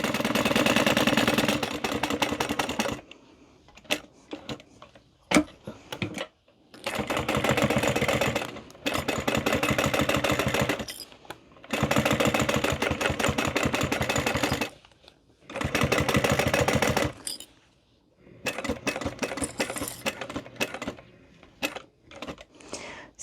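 A sewing machine stitches the bottom of a fabric wristlet closed in several bursts of steady running, each a few seconds long, broken by short pauses and light handling noises, close and fairly loud.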